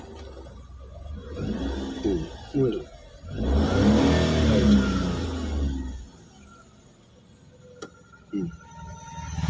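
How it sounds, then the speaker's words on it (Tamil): A car engine is started with the clutch pressed and then revved, giving a loud, swelling roar in the middle of the clip that fades back down, with people talking before and after. "கிளச்சை மிதிச்சு ஸ்டார்ட் பண்ணு, டக்குன்னு ஸ்டார்ட் பண்ணு. இப்போ ஆசை கொடுத்து காட்டு."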